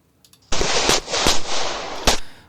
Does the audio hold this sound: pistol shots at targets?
yes